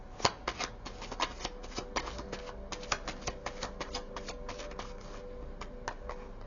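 Playing cards being shuffled and pulled from a deck, a close, quiet run of rapid papery riffles and flicks with a few sharper snaps, with no talking.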